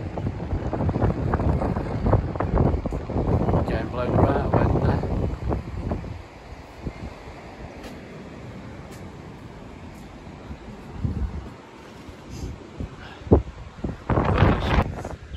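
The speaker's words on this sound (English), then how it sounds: "Windy down this way." Steady wind roars and buffets the microphone outdoors at a beach with waves, with a person speaking over the gusty rush in the first part.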